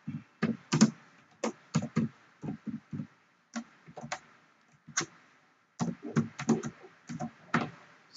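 Rapid bursts of keystrokes on a computer keyboard while C code is typed, close and clear, in short irregular runs separated by brief pauses, with no talking.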